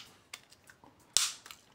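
A few small, sharp plastic clicks from a modern VAG car key remote casing, one noticeably louder snap near the end, set against near silence.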